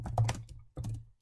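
Two short bursts of clicking keystrokes on a computer keyboard, close and fairly quiet, separated by a brief pause.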